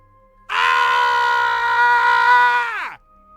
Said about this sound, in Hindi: तभी किसी की जोर से चीखने की आवाज़ सुनाई दी।